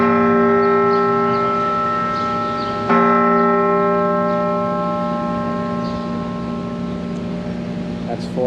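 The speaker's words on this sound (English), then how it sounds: "After hearing the ringing of the bell right above that Congress Hall was really cool to see and to hear" A large church tower bell in Philadelphia rings the hour with a rich, sustained harmonic tone, a fresh strike landing partway through, its hum lingering steadily with faint background noise.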